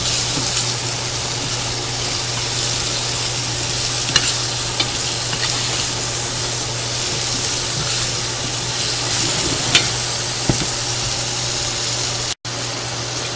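Carrot, cauliflower, turnip and chili pieces are being mixed with masala and salt for pickle, giving a continuous wet rustling and stirring with a few clicks, close up, and no one speaking.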